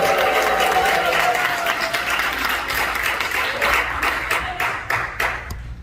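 Church audience welcoming a pastor with sustained applause and cheering, a dense crowd wash that holds loud throughout and sharpens into distinct claps toward the end.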